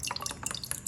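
Liquid is poured into a jar during a strawberry DNA kitchen experiment, a close, steady trickle with busy dripping and splashing throughout, no voices over it.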